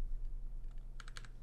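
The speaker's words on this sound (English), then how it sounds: "clearly your boy was typing bad" Light, quiet clicking of a computer keyboard being typed on, a few scattered keystrokes followed by a quick cluster of taps over a steady low hum.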